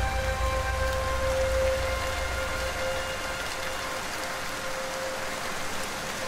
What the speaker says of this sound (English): It is early morning and it's raining.